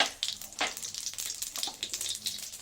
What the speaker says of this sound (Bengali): তারপর আলুটা আমি একটু ভাজতে দিই সর্ষের তেল দিয়েছি